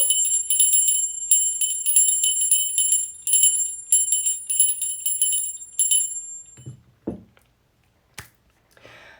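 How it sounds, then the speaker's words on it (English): A small bell rings repeatedly in bright, shimmering bursts for several seconds, then stops, leaving a few soft knocks and rustles. "go ahead and hold your ears while I ring the bell"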